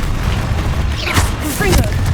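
Confringo blasting spell explosion in the Hogwarts Legacy video game: a loud, continuous rumbling boom with crackling bursts near the middle and end, close and dense, with no voice over it.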